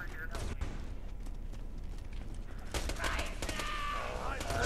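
Gunfire in the video game Borderlands 2: scattered shots through the first half, then a denser burst of rapid firing near the end, fairly quiet overall in a busy game mix.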